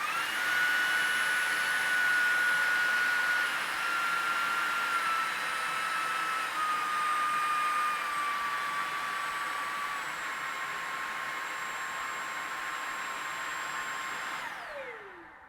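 A Shark Detect Pro cordless stick vacuum runs in medium mode, a steady close motor drone with a high whine whose pitch drifts slowly downward before it cuts off abruptly at the end.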